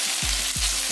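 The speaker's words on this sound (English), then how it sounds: "now you can hear some sizzling sound like this" Steady, loud hiss and crackle of mushrooms frying in hot oil in a pan, continuous and close, with a couple of low scraping thuds from stirring.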